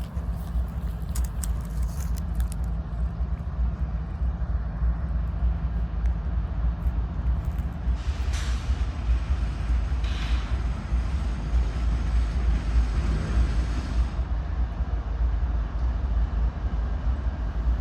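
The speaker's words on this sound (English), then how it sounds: "We then see a light-powered train V62 stopping right before Collier Yard." A light-powered CSXT freight train, V62, eases to a stop just short of Collier Yard, its steady low rumble running throughout, with faint brake hiss and squeal rising in the middle.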